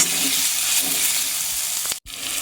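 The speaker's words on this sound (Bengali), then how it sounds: "এবারে আমি এটাকে ভালোভাবে কষতে থাকবো" Spice masala for mutton curry sizzles and fries steadily in a hot pan, a continuous close crackle with faint stirring scrapes and a brief pause near the end.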